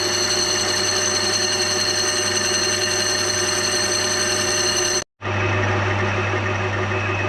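A lathe turns cast fins on a BSA Bantam race-bike barrel with a high-speed steel tool, giving a loud, steady mechanical hum and whine that cuts out briefly and resumes at a slightly different pitch.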